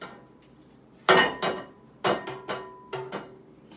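A cake pan being rapped against a surface to knock out loose flour in a home kitchen: five or six hard metallic knocks spaced about half a second apart, close and clear with ringing tails, no voices.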